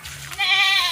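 A goat on a farm with Boer breeding stock lets out one loud, close, wavering bleat that starts partway in and fades at the end, after a short low rumble.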